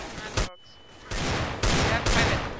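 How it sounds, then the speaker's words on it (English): Desert Eagle pistol shots in Counter-Strike: Global Offensive, several loud, close blasts with sharp onsets and ringing tails, separated by a brief near-silent gap, with no talking. "As if I just shot him through the fucking wall"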